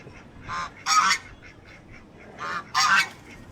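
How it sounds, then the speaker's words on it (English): A goose in Canggu, Bali honks close by in two pairs of loud, nasal calls, each short honk followed by a louder one, with quiet gaps between them and no talk. "I guess that one's a goose, not a duck"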